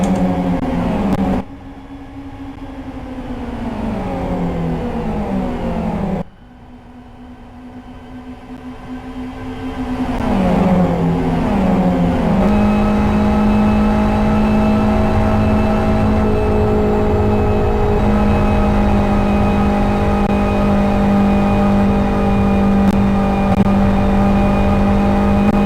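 Race car engines at the Kyoto 400 race hold a loud, steady tonal drone that dips with gear shifts and sudden cut-offs, then settles into a sustained high whine for a long stretch.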